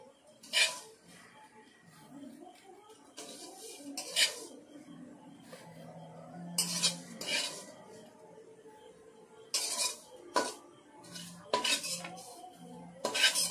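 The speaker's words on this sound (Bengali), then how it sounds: "এবার আমি প্লেটের মধ্যে তুলে নিচ্ছি" Freshly fried lachha semai is lifted from a wok onto a plate with metal utensils, giving scattered sharp clinks and scrapes over a quiet kitchen background.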